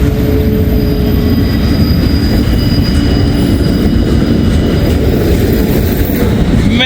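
A long freight train with distributed power locomotives picks up speed and rumbles past up close, steady heavy roar of wheels on rails with faint squealing and clatter, no voices.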